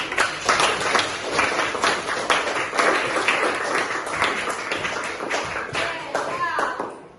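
Schoolchildren clapping together in a classroom during an aromatherapy burner project lesson, a steady crowd of quick hand claps that carries on throughout and fades at the end, with a faint voice underneath.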